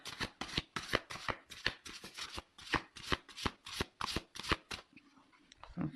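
Tarot cards being shuffled during a reading, a quick run of crisp, papery riffles and taps in an uneven rhythm, close and fairly quiet, ending in softer handling sounds.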